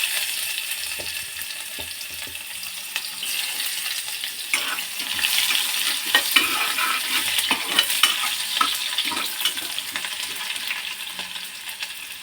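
Finely chopped onion and curry leaves fry in a pan for spiced rice, a continuous bright sizzle with occasional stirring scrapes, close and fairly loud, swelling midway as the ingredients hit the hot oil.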